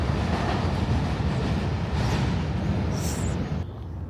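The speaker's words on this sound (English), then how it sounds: "Oh, there's the metro coming through." A St. Louis metro train rumbles past outdoors, a steady loud broadband roar holding through the whole stretch with a brief high squeal near the end before the noise drops off.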